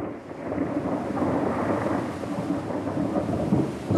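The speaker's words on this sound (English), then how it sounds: "Look, Echo, it's been raining." Cartoon thunder and rain: a low, sustained rumble of thunder rolls over a steady hiss of falling rain, swelling slightly toward the end, with no voices.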